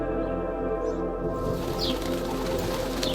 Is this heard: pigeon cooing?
yes